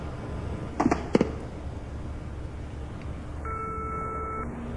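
A telephone busy tone after dialing: two sharp clicks, then a steady electronic tone lasting about a second, ending in a lower tone. It is quiet and close, with no voices.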